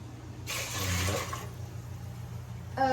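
Water poured into a pot of rice: a short rushing splash of liquid lasting about a second, against a low background hum, with a brief sound at the end.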